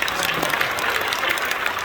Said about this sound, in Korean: 자, 이제 박사님은 박수하겠습니다